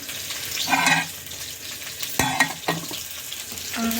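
Potatoes and curry sizzle and fry in a pan in a home kitchen, a close hissing crackle with a few brief spatters and stirring scrapes, no talk.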